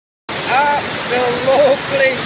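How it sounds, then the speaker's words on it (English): River water rushes steadily in a mountain setting, a broad constant wash with gurgling detail, while someone speaks over it in the foreground. "We're on the river."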